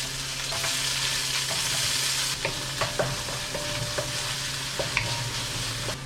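Onion stir-frying in a pan with garlic and ginger for vegetable chow mein: a loud sizzle that eases after a couple of seconds, then repeated spatula taps and scrapes against the pan at close range, with no voices.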